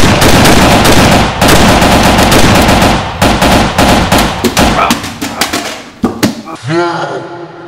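Loud video game gunfire with dense rapid bursts and single cracks that thin into scattered shots and fade at the end, close and dominant throughout.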